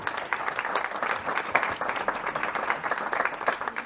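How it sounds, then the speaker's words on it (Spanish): An audience applauds after an award announcement at a rural tourism panel, a moderate, steady patter of many hands clapping, heard at some distance with no speech over it. "Un aplauso para él."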